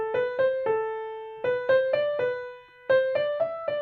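Beginner piano piece played in steady, correct rhythm: clear repeated note groups with bright harmonics, a short pause midway, then the pattern resumes, close and alone without talk.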